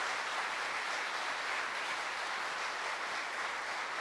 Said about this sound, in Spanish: Y un aplauso fuerte al Señor